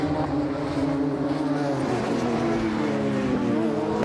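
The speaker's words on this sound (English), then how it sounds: "Richard Stables has got this train of cars behind him" Radical race cars at a club racing event at Donington Park run in a close train, their engines droning steadily and loudly throughout with layered, shifting tones of several cars at once.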